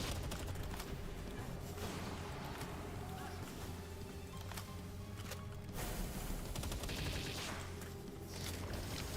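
Sustained automatic gunfire from a weapon in a survival video game, a dense run of rapid shots with brief breaks, set against a droning game background.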